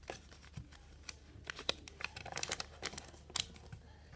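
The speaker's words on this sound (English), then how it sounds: "Then we're going to fold this top flap up." Origami paper being folded for a cat or pig finger puppet, a top flap creased upward with soft, close crinkles and crackles, scattered brief paper rustles and a few sharper crisp snaps.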